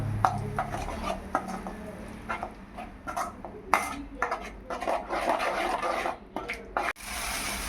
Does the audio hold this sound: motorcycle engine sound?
no